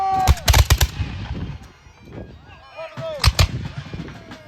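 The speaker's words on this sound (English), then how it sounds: "You'll notice on both sides they're firing by battalion, so one group will fire, then the next group will fire." Musket volleys at a Revolutionary War reenactment battle, fired by battalion: a loud cluster of sharp cracks, a pause with distant pops, then a second ragged volley, echoing in open air.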